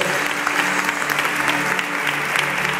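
Warm applause from an event audience in Hermosillo, a dense, steady wash of many hands clapping at once, loud and sustained throughout.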